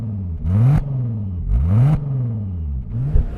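The 4-cylinder engine of a Volkswagen Golf R revs close by, three sharp throttle blips rising and falling in pitch with gaps of idle between them; no one speaks.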